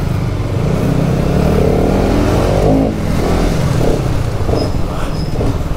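A Bajaj RS200 and a Yamaha R15 V3 motorcycle riding on a road, with loud continuous engine drone and rising, falling revs throughout, close up with heavy wind rumble.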